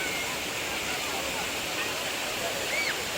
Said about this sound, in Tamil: பாருங்கள் எவ்வளோ நல்லா கொட்டிகிட்ருக்கு தண்ணி மேலேருந்து